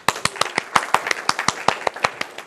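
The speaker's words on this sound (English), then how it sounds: "Round of applause." A sparse audience applauds briefly, individual claps crisp and distinct at a brisk, uneven rhythm, with no talk.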